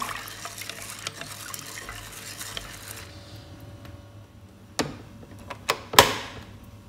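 A spoon stirs soaked, swollen beans through brown rice in a cooking pot, giving soft scraping and shuffling for a few seconds before several sharper clinks of utensil against pot near the end, with no talking.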